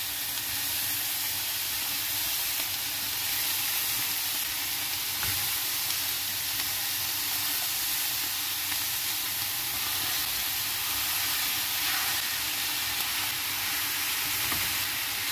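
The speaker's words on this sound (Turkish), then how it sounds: "Orta ateşte tavuğu ısıtmak önemli." Chicken pieces fry skin side down in a pan over medium heat, giving a loud, steady, unbroken sizzle with no talking.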